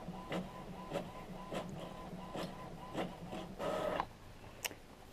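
A desktop printer printing onto sticky notes, its feed mechanism clicking and whirring in a series of short rhythmic passes with a longer burst near the end, close and moderately loud with no talk.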